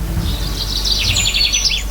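Small birds chirp and tweet in quick bright bursts over a low, steady background hum, a busy flurry of calls at moderate distance with no one speaking.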